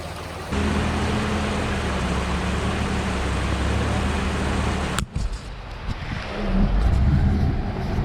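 A supercharged Toyota Tacoma crawls along the Compressor Creek off-road trail in Idaho, a steady engine drone heard from inside the cab with rumbling and knocks, briefly interrupted by a sharp jolt.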